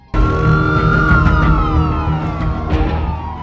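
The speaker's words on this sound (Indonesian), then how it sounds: "Tak lama kemudian terdengarlah suara mobil sirene polisi yang datang ke rumah Thomas" A police car siren wails loudly and continuously, its pitch sweeping and dipping as it draws near, with a steady rumble beneath it and no voices.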